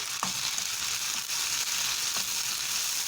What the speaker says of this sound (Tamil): நல்லா வதக்கி விட்டுக்கலாம் இஞ்சி பூண்டு விழுத